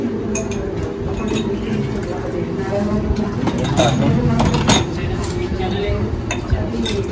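A spoon stirs lemon soda with salt in a glass, repeated light clinks and taps ringing against the glass over several seconds beneath people talking in a busy outdoor setting.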